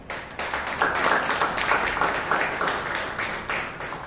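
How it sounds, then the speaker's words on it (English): Sustained audience applause at a Toastmasters meeting in Bangalore, a dense, steady clatter of many hands clapping close by for about four seconds with no voices over it. "So I think our tag players need a lot bigger applause"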